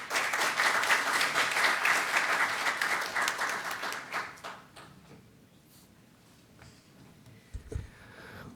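An audience at a patent-policy public hearing applauds a lawmaker who is called up to speak. The clapping is dense and fairly loud for about four seconds, then fades out, leaving quiet room noise with a few soft knocks.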